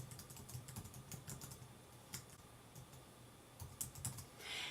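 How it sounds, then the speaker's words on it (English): An address being typed on a computer keyboard, faint rapid key clicks in irregular bursts with brief pauses, heard alone in a quiet room. "Then here you can type in your address."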